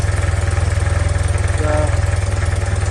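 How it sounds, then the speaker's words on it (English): A BMW R90/6 motorcycle engine idles with the choke on in cold 28-degree weather, a steady, smooth, close and loud low thump that keeps an even rhythm throughout. "Idle's nice and smooth. This is with the choke on."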